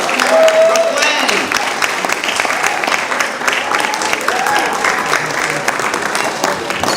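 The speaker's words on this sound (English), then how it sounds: "let's give them a round of applause" Audience applause at a Brooklyn For Peace 40th anniversary celebration, dense clapping from a crowd filling the room for several seconds, steady and moderately loud, with a few voices rising through it.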